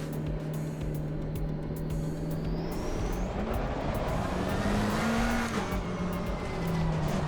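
A race car laps the Zolder circuit in Assetto Corsa Competizione, its engine droning steadily and rising and falling in pitch through gear changes, with faint tire noise and no talk.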